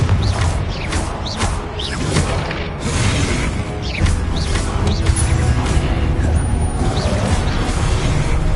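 Confringo fire spell explosions in Hogwarts Legacy, a dense loud barrage of crashing blasts and whooshes running continuously with repeated bursts and debris clatter.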